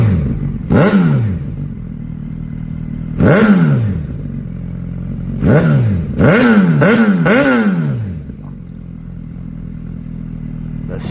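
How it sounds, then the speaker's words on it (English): A Gen 2 Suzuki Hayabusa motorcycle fitted with a Brock's Performance exhaust revs in a series of loud, close throttle blips, with two spaced single revs followed by a quick cluster of three, no voices. "The sweet sound of Brock's exhaust."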